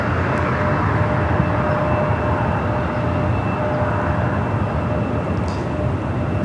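An airliner taking off at Los Angeles International Airport produces a steady, loud, broad engine roar that holds evenly throughout, with a faint tonal whine riding on top.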